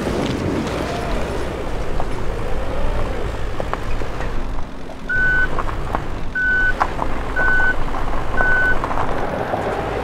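Mini excavator working in the video game Demolish & Build 3, its engine a steady mechanical rumble while a reversing alarm beeps four times at even intervals in the second half.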